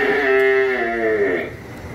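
Cattle moo at a Vinh Long cattle farm selling young fattening 3B and cream-colored cows, one loud, close, drawn-out low moo lasting over a second before fading into quieter farm background.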